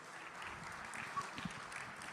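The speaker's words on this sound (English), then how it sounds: "big round of applause to all our future leaders" Faint audience applause for candidates after a presidential election debate at a medical association convention in Orlando, a soft, steady patter with no voices.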